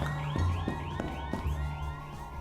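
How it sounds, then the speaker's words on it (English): Several alarms ring together in a video game, with repeating rising electronic tones pulsing steadily at close range and fairly loud, overlapping one another with no voices. "multiple fire alarms."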